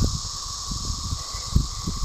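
Periodical cicadas chorus in a Kentucky forest, a steady high-pitched droning whine with bands of buzzing, while low rumbling wind or road noise swells underneath throughout.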